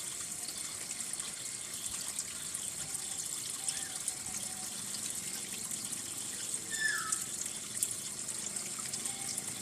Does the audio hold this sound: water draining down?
yes